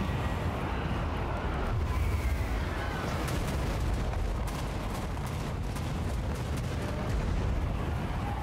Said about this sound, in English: I'm gonna launch magic missiles at him